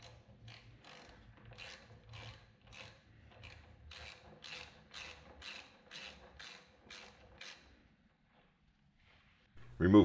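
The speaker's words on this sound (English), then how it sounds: "Remove both caliper bolts." Hand ratchet loosening the front brake caliper bolts on a 2014 Kawasaki KLR 650, a run of rapid clicking pawl bursts in a steady rhythm, close and moderately loud, fading to quiet before a brief louder clatter at the end.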